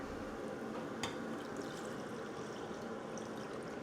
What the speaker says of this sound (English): So just pour the water in.